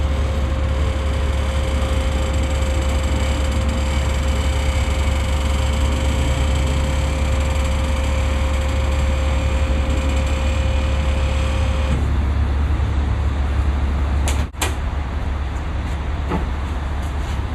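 A 1000hp DLM car engine runs in a loud, continuous roar with a steady whine that drops away partway through, and a sharp knock near the end.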